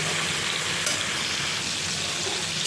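Chopped tomatoes frying with onions in a hot pan while being cooked down for a fish curry: a loud, dense, unbroken sizzle like steady rain, close up and without talk.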